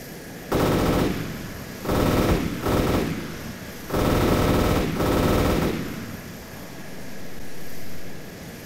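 Sustained bursts of heavy automatic cannon fire from a Harrier jet's guns in a combat video game, several loud sustained volleys in close succession followed by a fading rumble.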